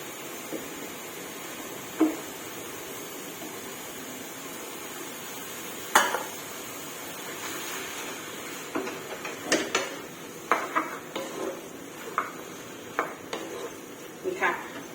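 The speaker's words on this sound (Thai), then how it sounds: "จากนั้นใส่เนื้อลงไปรวนค่ะ ใบมะกรูดกับตะไคร้ใส่ลงไปเลยค่ะ" Beef stir-fried in a pan with kaffir lime leaves and lemongrass for a Lao-style beef curry: scattered utensil scrapes and clinks against the pan, sparse at first and then quickening into a run of clatter over a low sizzling background.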